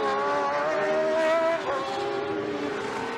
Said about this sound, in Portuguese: E agora vamos vendo aí o replay da ultrapassagem de Lauda,